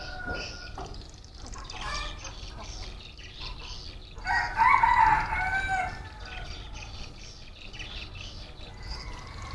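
A rooster crows at a small backyard plot where hens are laying eggs, the call rising loud and clear for about two seconds midway through, set against steady outdoor background noise with no talk.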